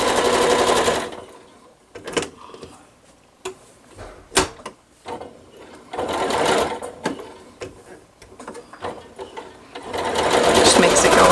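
A sewing machine runs in short bursts while stitching quilt block pieces for a nine patch star, with clunks and pauses between seams and a nearby voice talking over it.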